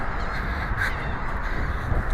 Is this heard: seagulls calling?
yes